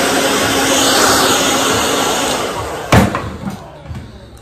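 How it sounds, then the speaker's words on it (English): A loud, broadband whoosh of a hair dryer blowing over double strand twists in a man's hair blows steadily, then cuts off abruptly with a click, leaving faint rustling and handling sounds. "you're just going to take your blow dryer and kind of just blow it off"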